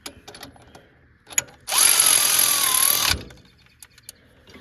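A ratchet tightens a bolt in a single loud, whirring burst of about a second and a half, with scattered quieter clicks and knocks before and after.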